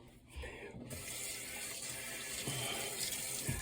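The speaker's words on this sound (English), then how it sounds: "I'm putting some water on my hands so my hands are wet." Tap water runs steadily into a sink as hands are wetted, starting after a brief quiet moment and continuing as a moderately soft, even splashing stream, with no talk.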